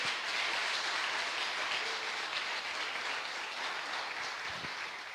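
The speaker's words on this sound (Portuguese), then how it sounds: "Você pode aplaudir o Senhor por isso" A church congregation applauding, a dense sustained wash of clapping from the whole room that holds steady and tapers slightly toward the end, with no voices on top.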